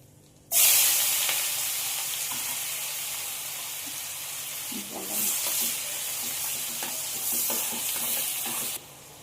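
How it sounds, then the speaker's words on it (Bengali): Onions sizzle steadily in a hot pan while chicken tandoori gravy masala is being cooked, a dense continuous hiss broken by occasional stirring scrapes, with no talk. "পেঁয়াজটা আমি 2 মিনিটের মতো একটু ভেজে নিয়েছি।"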